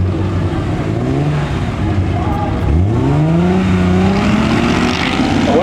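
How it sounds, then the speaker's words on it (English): A Mazda 323 and a BMW drag racing down the strip at a raceway, engines loud and close, revving with rising pitch sweeps as they accelerate, a commentator talking over the roar. "As they go tearing down the track."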